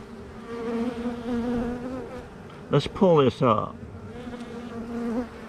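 A bee buzzes steadily around a homemade queen marking disc at a beehive, a low continuous drone heard close, briefly interrupted by a short spoken phrase midway.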